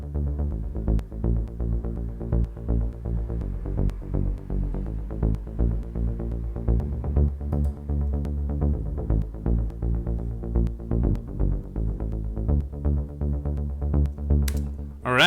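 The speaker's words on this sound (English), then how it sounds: "I just copied and pasted the lower notes here and pasted it in the bass, and then you get like this for the bass." An isolated synth bass line from a progressive house track pulses steadily in the low end, with rhythmic throbbing notes played alone and prominently throughout.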